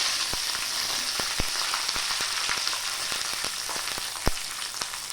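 Curry leaves and dried red chillies sizzle steadily in hot oil, a continuous close frying hiss punctuated by sharp pops and crackles at irregular intervals.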